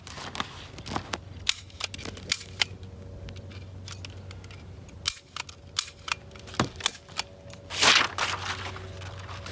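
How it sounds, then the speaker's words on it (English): Gunshots from .45 ACP handguns at an outdoor shooting range, including a Ruger SR1911 and HK45 pistols, heard as sharp, fairly distant cracks spaced irregularly over a low steady background hum. "Today we are going to shoot some exciting 45 handguns."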